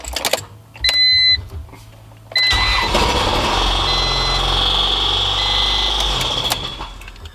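A Honda Civic (EF) engine with a turbo build starts and idles loudly with an abnormal high, steady whine and beeping tones above it, after a couple of brief electronic chimes.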